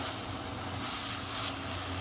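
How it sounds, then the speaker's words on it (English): A beef roast sears in hot oil in a pan before slow cooking, giving a soft, steady, fairly quiet crackling sizzle that holds evenly throughout with no voices. "you want to hear that sizzle straight away"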